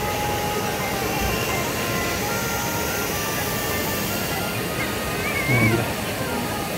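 Water gushes with great force from a burst army water pipe in a children's park, a loud, constant roaring rush that fills the whole stretch.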